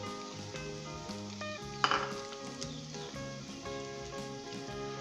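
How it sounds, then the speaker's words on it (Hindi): Fried onions tipped into a pan of shahi chholay, bringing a steady sizzle and frying hiss with clinks of a utensil against the pan and a brief louder scrape in the middle, all over faint kitchen background music. "तली हुई प्याज डालेंगे।"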